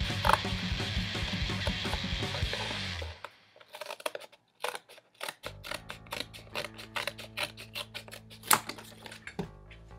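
Scissors snip through patch material in a quick run of close, crisp clicks and cuts, with a brief quiet stretch partway through before the snipping resumes.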